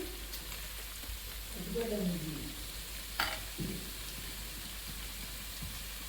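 Chicken pieces frying in oil until browned, a steady soft sizzle with a few stirring scrapes and brief louder bursts, close and moderate.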